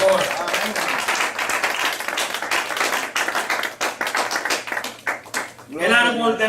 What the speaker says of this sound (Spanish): Alabado, denle fuertes aplausos a Cristo,